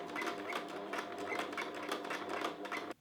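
A sewing machine stitching an elastic band onto fabric runs steadily up close with a fast, even mechanical whirr and rhythmic needle clatter, then stops abruptly.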